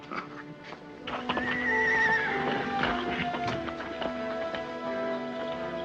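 Horses being stolen from a stable, shrill neighing and whinnying over clopping hooves and stamping, with several close, loud animals restless throughout.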